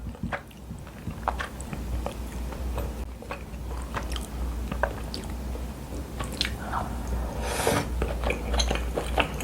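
Close, wet chewing and biting of chicken offal dipped in wasabi soy sauce, with soft squishes and occasional crunches that continue steadily throughout.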